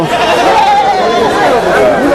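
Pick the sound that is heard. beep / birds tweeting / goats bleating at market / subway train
goats bleating at market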